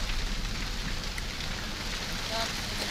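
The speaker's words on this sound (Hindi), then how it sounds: "यहाँ भी कई जगहों पर गरज चमक के साथ बारिश हो रही है" Rain falls during a thunderstorm, a dense steady hiss of drops on surfaces, continuous and fairly loud throughout.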